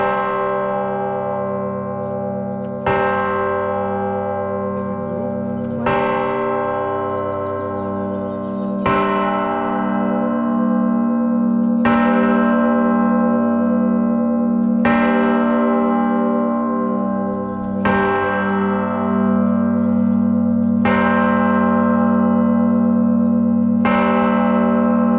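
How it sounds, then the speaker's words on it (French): Church bells in the French countryside strike eleven o'clock, loud and resonant, with evenly spaced strokes about three seconds apart over a sustained, humming bell tone and no voices. "faut le faire d'être pile poil à 11h pour avoir le son des cloches"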